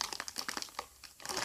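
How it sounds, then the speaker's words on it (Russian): A plastic Play-Doh packet crinkles and crumples in quick, close, uneven bursts as hands struggle to tear it open, with no voices over it. "Итак, рвем"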